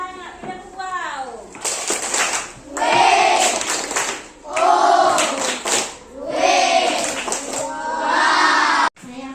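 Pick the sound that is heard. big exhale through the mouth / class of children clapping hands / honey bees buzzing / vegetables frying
class of children clapping hands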